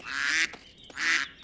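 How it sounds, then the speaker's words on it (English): Ducks on a farm give two loud, close quacks in quick succession, with a short pause between them. "Hey, stop that, you ducks."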